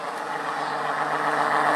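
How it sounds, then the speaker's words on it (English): A loud car rolls past on the street, a steady rumbling engine drone with low hum that swells slightly as it goes by, no talking over it. "As I let that loud-ass car roll on by me."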